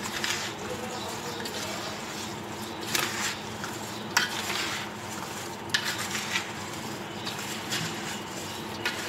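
A spoon stirs garlic into mango pickle in a pot, giving faint, scattered scrapes and soft metallic clinks at an uneven pace against a quiet, hissy background.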